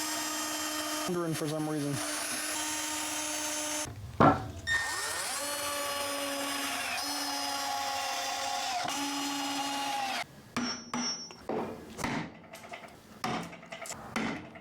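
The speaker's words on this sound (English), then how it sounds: "I want to drill a pilot hole first before I do it" A power drill bores pilot holes into the wooden rails of a small planter box, with steady whirring runs broken by short pauses, then shorter bursts near the end. Someone speaks briefly between runs.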